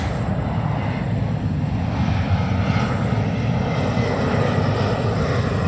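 An airliner taking off at New York JFK gives a continuous, dense engine roar, strong in the low range with a thin high whine, loud and steady for the whole stretch with no talk.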